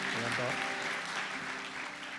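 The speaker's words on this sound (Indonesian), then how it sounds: "kasih tepuk tangan" Applause from a church congregation during a Sunday service fills the whole stretch as a steady wash of clapping, with a voice and tonal sounds partly over it.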